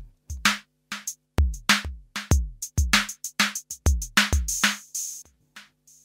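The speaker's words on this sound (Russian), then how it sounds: "И также любимый мой звук — барабанов." Electronic drum hits triggered from a Korg Kaoss Pad KP3+ in a live-looping pop set: punchy kicks with pitch-dropping tails and bright snare-like hits in a steady, loud repeating pattern, with no voice.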